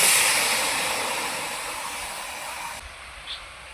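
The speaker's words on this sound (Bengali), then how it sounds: "কচুগুলোকে কড়াইতে দিয়ে দিচ্ছি।" Taro pieces dropped into a hot wok give off a loud, broad steaming hiss that gradually fades, ending with a faint clink.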